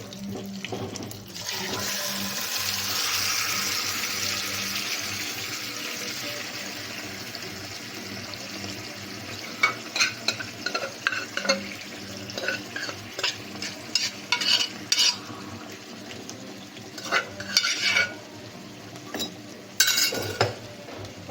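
Boiled mango stirred into a pan of mango saaru with curry leaves, a soft continuous bubbling and sizzle followed by intermittent scraping and clinking of a spoon against the pan.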